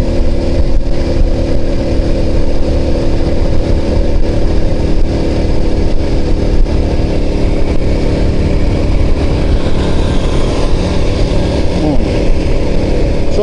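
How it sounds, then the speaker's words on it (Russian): Moped engine accelerating in fourth gear on a town road, its buzzing mid-pitched drone loud and continuous with steady wind rush, heard close up from the rider's position. "На четвертой передаче, вон, смотрите, он ускоряется."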